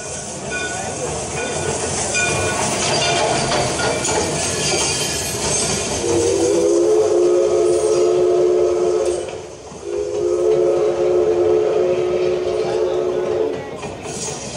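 A train rumbles along steadily while two long, drawn-out whistle blasts sound in succession over the clatter.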